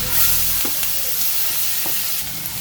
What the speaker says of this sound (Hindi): अब इसमें हम कटी हुई प्याज डालेंगे।